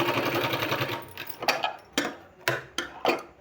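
A sewing machine stitches green fabric onto a sleeve, a fast whirring run followed by several short separate bursts of stitching, close up with no talking.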